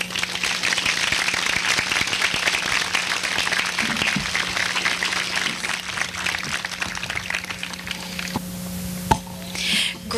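An audience at a Crooked Billet Day school ceremony claps steadily, a dense wash of applause that carries on for several seconds before thinning out, with a few louder claps near the end.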